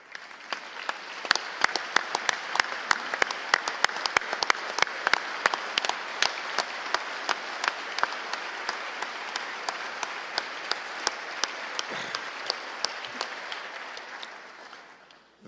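Audience at a Missouri State of the State address giving sustained applause to welcome a family, a dense, steady clapping from a large crowd that tapers off near the end.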